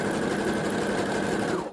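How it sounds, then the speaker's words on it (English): Sewing machine running a wide zigzag stitch on fold-over elastic, a short, loud, continuous burst of fast stitching from start to finish. "This time you're going to put a wider zigzag on, and sew from the front"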